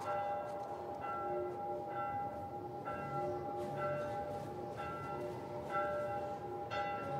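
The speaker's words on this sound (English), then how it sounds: "Is this like a warning bell or something that I'm in here?" A warning bell tolls in The Last of Us Part 1, with repeated slow, evenly spaced strikes that ring on against a steady background throughout.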